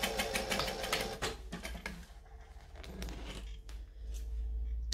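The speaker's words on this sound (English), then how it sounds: "I'm just going to go 2 stitches back from where I left off. Stitch, back stitch," A sewing machine making a few short stitch-and-backstitch runs on a Vordenza sewing project, with quick mechanical rattling bursts that pause and restart, close up and fairly quiet.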